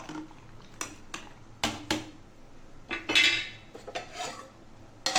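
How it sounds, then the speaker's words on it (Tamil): A ladle stirs a pot of salted, boiling broth, giving scattered metallic clinks and scrapes against the pan, close and clear with no talking. "கரண்டி வச்சு நல்லா கிண்டி விட்டுடலாம்"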